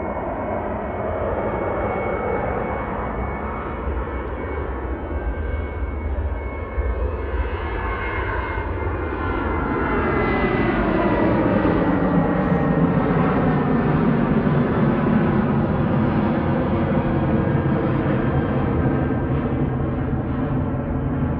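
A Ryanair Boeing 737-800 departing for Prague roars steadily, its jet engine noise building and holding loud for the whole stretch with a broad, rumbling wash and no voices.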